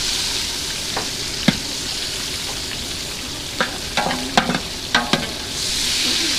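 Beef eye of round sears and fries in a large pot for a wedding feast, a steady close sizzle broken by several sharp clanks and scrapes of stirring.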